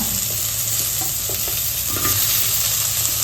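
Chopped tomatoes fry in a pan for a tomato chutney, giving a steady, close hiss with soft stirring scrapes throughout and no talk.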